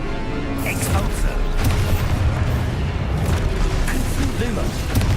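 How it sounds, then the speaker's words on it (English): Expulso spell blast in Hogwarts Legacy, a loud, deep booming explosion rolling on for several seconds amid dense game effects. "Expulso!"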